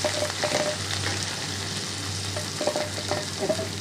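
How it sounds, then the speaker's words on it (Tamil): Onions sizzle and fry in a hot oiled pan for a noodle dish made from leftover chapati, a steady close crackle with light stirring scrapes and no talk. "இப்போ நம்ம இந்த ஆனியன்ஸை போட்டுடலாம்"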